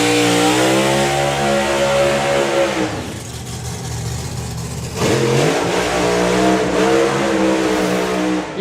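A drag racing car's engine revs loudly and close at an FIA FIM drag racing event. The pitch climbs, drops off briefly, then surges and climbs again.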